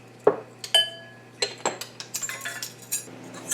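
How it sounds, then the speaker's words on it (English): Dry ingredients for a peach cobbler, including baking powder and salt, are mixed in a bowl with a utensil, making a run of close, sharp clinks and taps against the bowl, with no talking. "Give this a quick little mix in a second"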